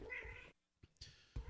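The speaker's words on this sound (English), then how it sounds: "Sorry about that. That's my cat." A house cat meows close to the microphone, two or three short, loud calls broken by a brief quiet gap, with no talking.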